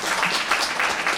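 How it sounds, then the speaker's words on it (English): An interview audience gives a short round of applause, with steady, fairly loud clapping throughout and no talking. "That deserves a round of applause, doesn't it?"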